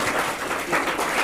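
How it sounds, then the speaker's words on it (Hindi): Applause from an audience cheering for the children taking part in a school Independence Day celebration: a broad, steady wash of clapping from many hands, swelling slightly toward the end, with no voices. "एक बार जोरदार तालियां बजा दें"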